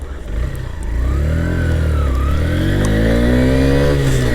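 A Honda Shine 100 motorcycle accelerates on a road running uphill, its engine rising steadily in pitch through the gears, loud and close.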